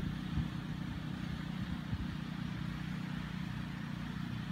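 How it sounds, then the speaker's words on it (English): A garden tiller churns up dirt some distance away, a steady low engine drone running unbroken and fairly faint throughout. "it's my dad back there tilling up some dirt for me. Just playing, he's tilling up the garden."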